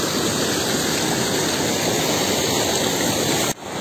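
A waterfall near a temple, a dense, steady roar of falling water, close and loud, unbroken until a brief drop at the very end.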